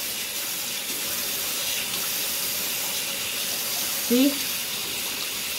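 Tap water runs steadily while a new tattoo is washed clean at a sink, a broad even rush throughout with a brief voice near the end.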